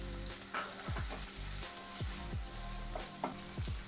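Shallots with crushed ginger and garlic frying in hot coconut oil, a steady close sizzle with a few soft scraping stirs, no voices.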